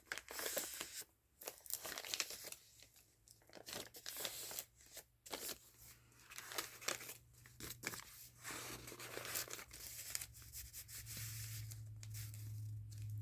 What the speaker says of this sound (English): Maybe we just put some paper in there. Some more writing paper.